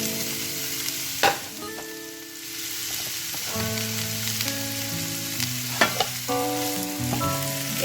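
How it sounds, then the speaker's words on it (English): Onion and green chili fry in hot oil with a soft, continuous sizzle under steady background music, with a few brief stirring knocks. "So now I'm going to cook the onion until it's nice and so here the onions are cooking"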